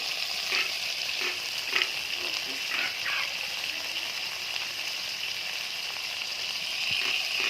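Masala being stirred and fried in a pan for a spicy amudi fish curry, a continuous bright sizzle with occasional scraping spoon strokes, close and steady, no talk.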